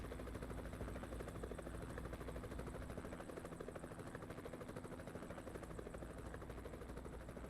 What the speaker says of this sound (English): There's a helicopter around here somewhere.